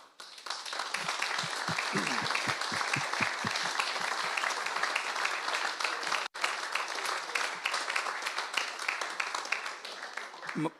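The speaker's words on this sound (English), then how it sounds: "all our leaders here deserve a massive round of applause" A crowd at a football club fans forum gives a big round of applause: thick, continuous clapping that swells quickly and holds steady for about ten seconds, with a brief break near the middle.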